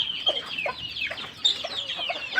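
A multicoloured rooster clucks in a quick series of short, close calls, some rising and some falling, with no voices over it.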